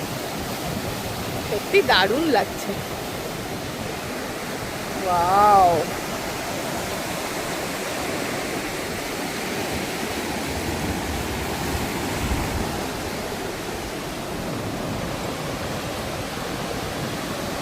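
Sea waves wash onto the beach at Mandarmani in a constant broad rush, while a couple of people speak briefly over the surf near the start.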